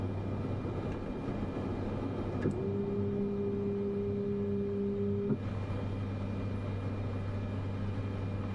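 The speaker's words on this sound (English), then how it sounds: "That noise was the flaps." Aircraft flaps extending in Microsoft Flight Simulator, a steady mechanical whine lasting about three seconds that starts and stops abruptly over the constant drone of engine and cockpit noise.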